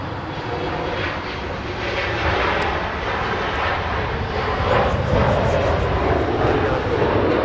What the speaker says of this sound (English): Now we go for the departure, flying to San Francisco.